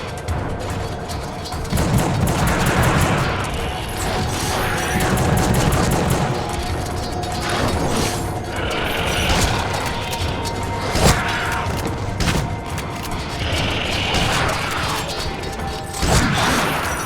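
Dense, continuous video game gunfire with repeated shotgun blasts and crashing impacts while fighting Slayer creatures in The Suffering, loud and busy throughout with little pause between shots.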